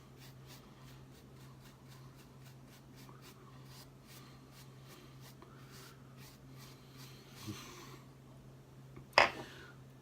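A soft-bristled beard brush stroking through a beard, a quiet series of rhythmic scratchy swipes close by, followed by a couple of louder rustles near the end, no talking.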